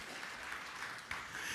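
Church congregation applauding during an Indonesian sermon, a steady wash of many hands clapping at once, fairly faint and continuous for the whole moment with no voices over it.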